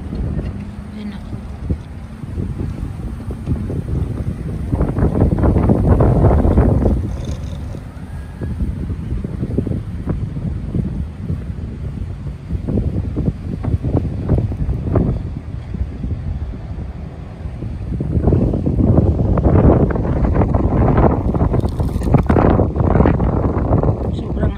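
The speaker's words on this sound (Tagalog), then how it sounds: "Hangin talaga, sobrang hangin para akong ililipad." Strong wind gusting by the sea at night, buffeting the microphone in loud, sustained rumbling bursts that swell and ease over the whole stretch.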